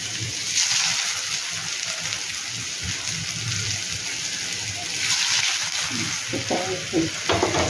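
Potato bites fry in a pan over a low flame with a steady, dense sizzle, close and continuous, with a few soft stirring and splattering bursts near the end.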